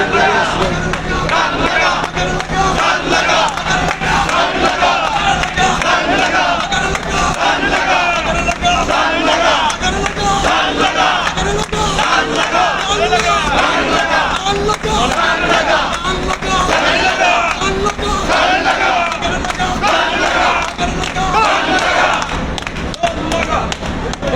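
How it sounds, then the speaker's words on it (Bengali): A large, dense crowd of BNP supporters chants and shouts Dhaner Shish and Tarique Rahman slogans at Sylhet railway station. The massed voices form a loud, continuous roar that fills the whole stretch with steady thumps underneath. "সেই রেল স্টেশন এলাকায় কিন্তু মুখরিত হচ্ছে ধানের শীষের স্লোগান"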